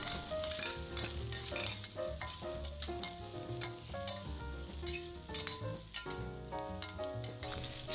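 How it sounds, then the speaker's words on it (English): Garlic, carrots and red peppers stir-fry in a pan, giving a continuous soft sizzle with occasional tossing clicks under steady background music. "Stir fry until aromatic,"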